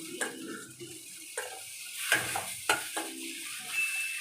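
Half-fried okra (bhindi) sizzles in a pan with scraping stirs and a few clinks of a utensil, steady frying hiss under the close handling noises.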